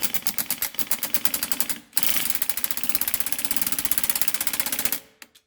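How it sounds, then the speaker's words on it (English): An impact driver fitted with a 3/8 flex joint and 10 mm socket hammers away under a 2009 Subaru Forester during a clutch fork replacement. It makes loud, close, rapid rattling bursts, with a brief pause near two seconds before a long steady run. "We've got a 3/8 flex on a 10-inch socket and attached to my impact driver."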